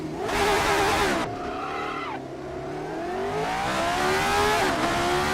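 An RSS Formula 79 race car engine howls at high revs on the Monza 1966 road course in a racing game, pitch rising and dropping through shifts and braking, loud and continuous with brief tire squeal.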